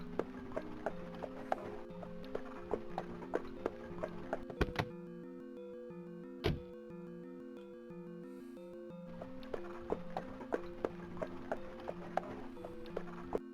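Horse hooves clip-clop in a steady walking rhythm, a game sound effect from Call of Cthulhu: Shadow of the Comet, with a short pause midway before the beat resumes, set over a continuous musical drone.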